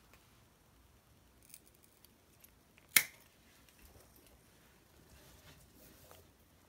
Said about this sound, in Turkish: Biraz fazla ip bırakarak ipi kesiyorum.